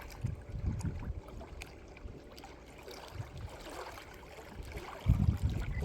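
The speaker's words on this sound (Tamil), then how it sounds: "அப்படியே அந்த அலை சத்தமெல்லாம் கேட்குது." Sea waves wash and break on the shore, a steady watery rush with heavier surges near the start and a loud close crash toward the end.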